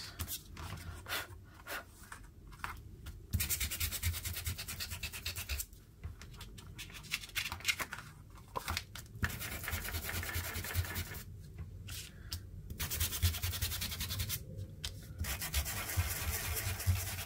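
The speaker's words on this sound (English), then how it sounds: "Sanding discs." Steady abrasive rubbing and scratching of sanding discs, close and continuous, with short pauses and changes in pressure.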